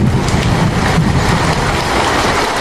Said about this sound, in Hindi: बाहर बहुत जोरों की तूफान के साथ साथ बारिश हो रही है